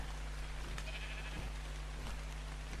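A sheep in the video game ARK bleats faintly a few times over a steady low hum, the calls soft and distant with no speech.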